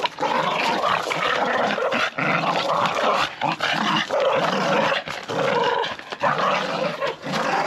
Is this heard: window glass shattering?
no